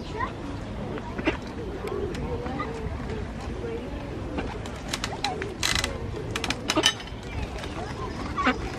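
Pigeons coo and murmur nearby at a lake while people talk over them, with a few sharper clicks and flutters scattered through the scene.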